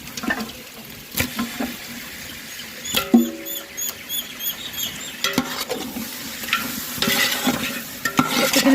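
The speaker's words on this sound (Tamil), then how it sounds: "சிக்கனை சேர்த்து நல்லா மிக்ஸ் பண்ணி விட்டுடலாம்." Chicken pieces being stirred with biryani masala in a pan for chicken dum biryani, giving soft scraping and mixing noises with a light sizzle and a few sharp utensil clinks, close up, with no talk.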